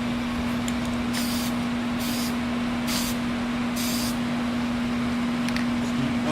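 Short bursts of clear coat sprayed as a test coat on car parts, four distinct hissing puffs over a steady background hum, with a couple of fainter spurts near the end.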